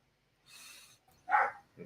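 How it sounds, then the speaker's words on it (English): A dog barking somewhere in the background, two or three muffled, faint barks with short gaps between them against near silence. "Dog just went ape shit."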